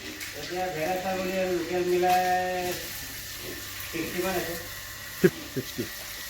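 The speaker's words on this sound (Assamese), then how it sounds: "ছাগলী কিমানমান আছে আপোনাৰ" Goats bleat on a pig and livestock farm, with two wavering, drawn-out calls close by, voices talking alongside, and a few sharp knocks near the end.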